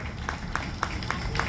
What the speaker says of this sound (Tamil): பலத்த கரகோஷம், பலத்த கரகோஷம்.